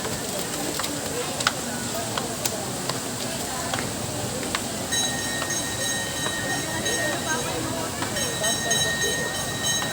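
A continuous rumbling rattle of a small mall ride train rolling along at SM Tungko mall, with faint clicks and a tonal hum joining partway through amid background crowd noise.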